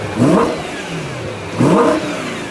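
The naturally aspirated V8 in BMW's only V8 M3 revs twice in quick succession, each blip rising sharply and falling back to idle, loud and close with no talk.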